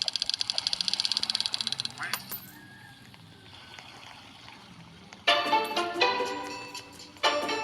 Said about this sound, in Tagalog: May duck.